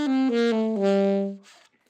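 An ascending E melodic minor scale followed by the descending E natural minor scale, played as a run of clear sustained notes stepping up and back down, close and alone with no talking.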